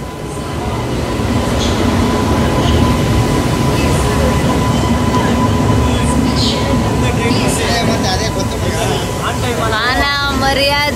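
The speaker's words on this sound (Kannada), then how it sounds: "ನೋಡಿ ಗೈಸ್, ಟ್ರೈನ್ ಇವಾಗ ಬಂತು." A train pulls into a railway station with a continuous loud rumble and rolling rail noise, a high squeal near the end, and people chattering on the platform.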